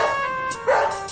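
Dogs bark and yip at a mail carrier on a residential yard, a short close burst of sharp barking against a tonal background.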